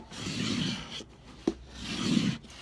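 A squeegee tool rubs transfer paper down onto a craft piece in two sustained scraping passes, close and moderately loud, with a brief tap in between.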